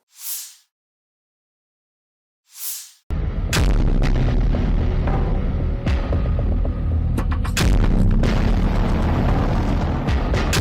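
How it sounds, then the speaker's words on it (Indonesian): After two brief hissing bursts, a loud, dense roar erupts and continues, with sharp cracks and crackling bursts layered over a heavy, rumbling blast, as a battle tank explodes after being ambushed in southern Gaza. "Tank tempur Zionis meledak hebat seusai masuk perangkap Brigade Al-Qassam"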